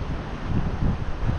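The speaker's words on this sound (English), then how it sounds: "it's so windy that it's not even exciting now" Strong wind on a beach buffets the microphone in low, uneven gusts that swell and fade across a brief stretch with no speech.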